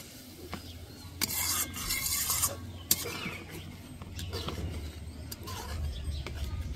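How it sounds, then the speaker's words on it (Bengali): A spoon stirs egg tomato curry gravy after water is added, with wet scraping and sloshing over a low, continuous bubbling sizzle and a few sharp clinks against the pan. "জল দিয়ে আবারও খুব ভালো করে নাড়া দিয়ে নেব।"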